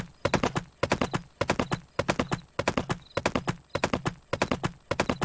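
Steady, even clip-clop of horse hooves from a horse in the Pumpkin Days video game, loud and close, sharp clusters of hoofbeats repeating in a regular galloping rhythm with no voices.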